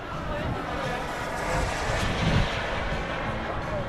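A radio-controlled model airplane comes in to land, its engine giving a steady, moderately loud drone with wind noise across the microphone throughout.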